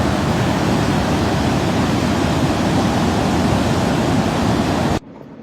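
Ocean sneaker waves surging on a shore, a loud, dense and steady roar of rushing water that runs for about five seconds and then cuts off abruptly.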